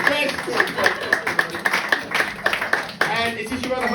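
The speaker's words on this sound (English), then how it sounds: "give them a round of applause, everyone" Scattered hand claps from a small crowd at the Loom Room ring out close by, uneven and brisk, with voices chattering underneath.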